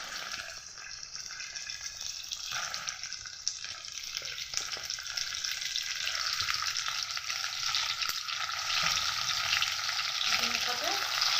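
Chicken pieces frying in a hot pan for Bengali haleem, giving a steady, fairly loud sizzle with occasional stirring scrapes throughout, no voices.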